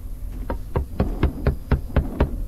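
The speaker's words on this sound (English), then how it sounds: "Someone is hammering on all the doors or windows." Steady, evenly spaced knocks, about eight blows in quick succession, like hammering on a door or window, fairly close.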